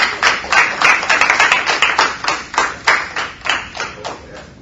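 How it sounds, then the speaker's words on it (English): A standing audience at a National Congress of Black Women College for Kids event claps loudly and close by. The claps come in quick, rhythmic bursts that rise and fade repeatedly throughout. "I want you to turn to those ladies and give them a round of applause."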